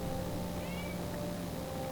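A cat gives a single brief, soft meow indoors, faint beneath a steady electrical hum and background noise, with no talking.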